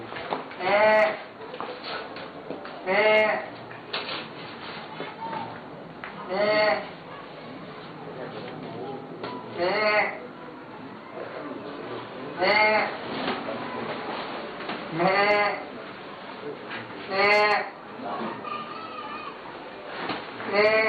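A person mimics goat bleats, loud quavering calls repeated about eight times at irregular intervals, with quieter background noise between them.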